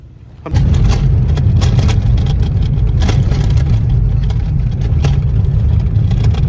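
A car engine in rural hill country fires up and settles into a steady, loud running drone that continues close by as the vehicle pulls away, with no talk over it.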